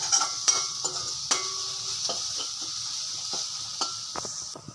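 Ginger garlic paste sautéing in a pan for roadside mushroom masala, a soft continuous sizzle with frequent light spatula taps and scrapes against the metal.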